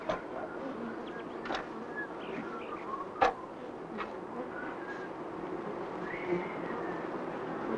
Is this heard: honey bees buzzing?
yes